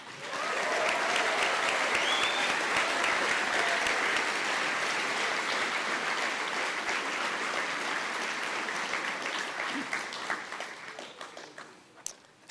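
At an engineering college ring ceremony, an audience gives sustained applause for newly inducted engineers. The dense, loud clapping fills the room for around ten seconds, then thins and fades out near the end.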